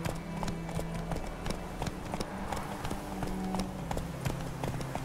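Horse hooves clip-clop at a steady gallop in The Witcher 3, a fast rhythmic thudding held close and loud, with a low tonal game drone running underneath.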